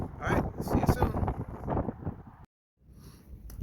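Gusty wind blowing outdoors in a backyard garden, rumbling across the microphone with a brief drop to silence near the end and no speech.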